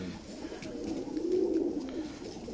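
Sialkoti pigeons give a soft, low, rolling coo that swells and fades over a couple of seconds, close by and fairly quiet, with no voices.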